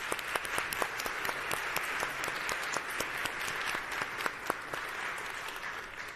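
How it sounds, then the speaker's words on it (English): Audience at a React and app developer conference giving a brief round of applause, crisp individual claps blending into a steady moderate patter throughout. "Let's have a quick round of applause for them."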